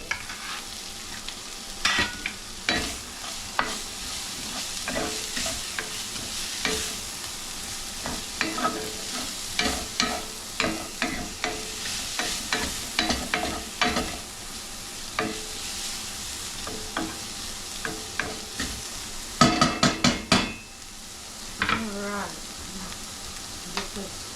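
Skillet beans frying and being stirred with a spoon in a pan, close repeated scraping clicks over a steady sizzle that run throughout, with a brief burst of quicker strokes near the end.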